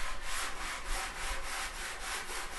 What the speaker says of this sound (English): Sand down.